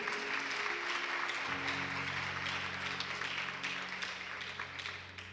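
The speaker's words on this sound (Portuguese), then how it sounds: "Você pode aplaudir Jesus bem forte por isso?" A church congregation claps loudly and steadily during a sermon, dense applause that holds and then starts to fade at the end while an organ chord sustains underneath.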